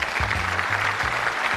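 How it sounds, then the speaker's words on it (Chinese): A studio audience at a televised dating show claps for a female contestant, a dense, even burst of applause over a faint low musical hum. "我们掌声送给浅畅"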